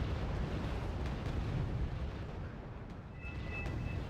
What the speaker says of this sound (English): On top of that, there's artillery falling there.